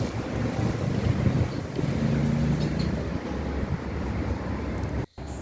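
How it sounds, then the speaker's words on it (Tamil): Strong wind blows steadily across an outdoor garden in Switzerland, a loud continuous roar with microphone buffeting, briefly cut off near the end. "காற்று பலமாக அடிக்கிறதால கொஞ்சம் குளிர் காலநிலையாகவும் இருக்குது"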